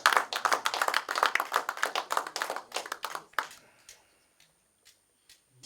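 A church congregation claps together in quick, rhythmic unison, loud and full at first, then thinning out and dying away to a few scattered claps and silence.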